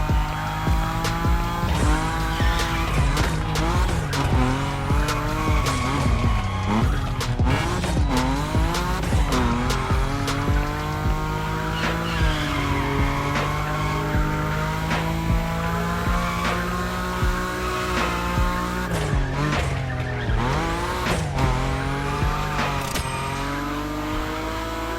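A Nissan Nismo sliding at high speed in the racing game The Crew Motorfest, its engine droning steadily while tires squeal continuously through long drifts, loud and sustained for the whole stretch with no talk.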